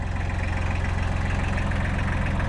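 A tractor engine idles steadily with an even low chugging pulse. The sound is loud and close and stays constant throughout, with no voices.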